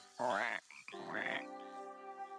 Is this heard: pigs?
no